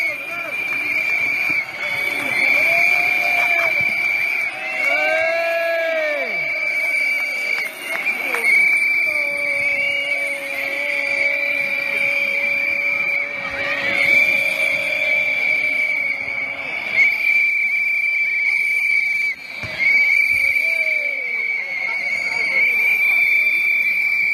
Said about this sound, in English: There appears to be a lot of whistles being blown in the valley.